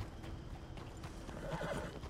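A horse in a cowboy video game clip-clops along with steady hoofbeats and gives a whinny partway through. The sounds are soft and sit under a busy game soundscape.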